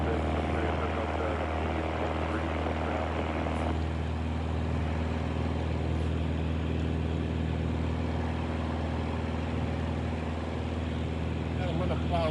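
A small airplane in flight on a cold winter day drones steadily with a constant, loud engine and propeller hum that fills the whole stretch.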